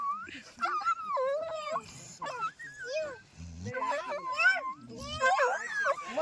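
A dog whimpers and yips in high, wavering whines, repeated in short bursts, with people talking nearby at the same time.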